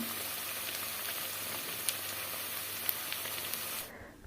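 Pakoras frying in a pan with a steady, dense hiss of bubbling oil, a couple of faint ticks, and an abrupt drop in the sizzle just before the end.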